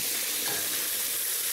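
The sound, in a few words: catfish frying in a pan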